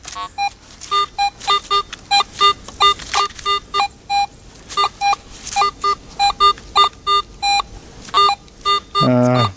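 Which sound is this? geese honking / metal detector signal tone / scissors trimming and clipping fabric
metal detector signal tone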